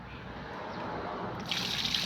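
Water sloshes and trickles as freshwater shrimp are washed, a steady close splashing that grows a little louder near the end.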